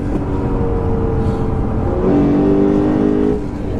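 A 2015 Lexus RC F driven hard around a racetrack, heard from inside as a loud, sustained engine drone that climbs in pitch as it pulls through the corners, with no talking.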